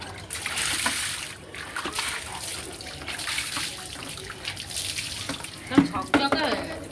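Running water splashes and trickles from a tap while a dog's face is being washed, a steady spattering flow with brief louder splashes near the end, mostly alone apart from faint background sounds.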